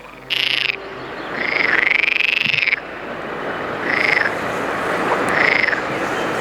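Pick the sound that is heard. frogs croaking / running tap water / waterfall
frogs croaking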